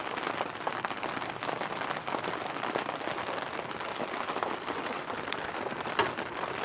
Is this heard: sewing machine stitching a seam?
no